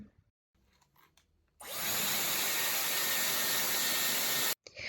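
A Dyson Airwrap hair styler switches on with a sudden loud, steady airy whoosh that holds for a few seconds and then cuts off abruptly, preceded by soft handling noises.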